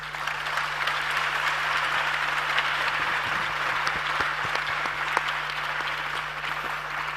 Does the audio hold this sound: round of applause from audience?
yes